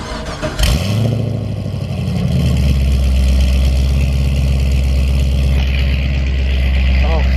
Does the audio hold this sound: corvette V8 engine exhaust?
yes